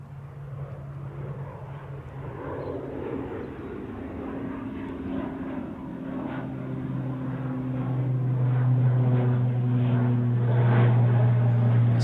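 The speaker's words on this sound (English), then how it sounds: "Next departure is a prop. It's already started its roll, trying to catch me out." A Logan Air propeller plane rolls down the runway at Manchester Airport on departure, a steady engine drone with a strong low propeller hum that swells louder and closer as it accelerates.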